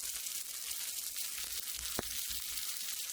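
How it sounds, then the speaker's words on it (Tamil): Snack pieces fry in hot oil in a pan with a steady, close hiss and sizzle. One sharp pop cuts through near the middle. No one speaks. "இப்போ ஒரு பேனில் எண்ணெய் ஊற்றி ஒன்று ஒன்றா அதில் போட்டுக்கலாம்"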